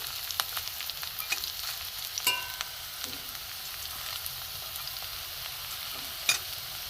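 Drumstick flower pakoras fry in a little oil over low gas, a soft continuous sizzle with occasional crackles and a few light utensil taps.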